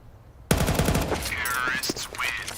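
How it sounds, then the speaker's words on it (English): Rapid automatic gunfire from a Counter-Strike match in an ESL Pro League game, loud, close bursts that erupt suddenly after a brief quiet moment and continue in dense, overlapping volleys. "He gets some shots off."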